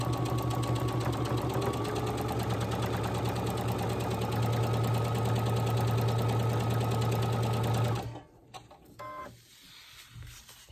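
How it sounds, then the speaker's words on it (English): A sewing machine stitches a quilt in a steady, loud, fast mechanical run for about eight seconds, then stops, leaving a few faint handling clicks. "I'm just gonna sew down a little bit to my next line"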